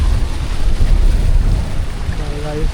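Sea waves surge and splash onto the shore at Kegaon Beach in Uran, a loud, continuous wash of churning water with heavy wind buffeting close to the microphone.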